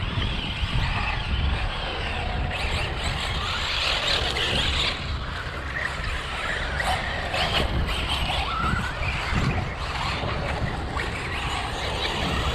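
Losi 8ight-E and ECX Ruckus electric RC cars racing outdoors, giving a loud, continuous motor whine and rumble with bursts of gravelly tire noise and clatter throughout.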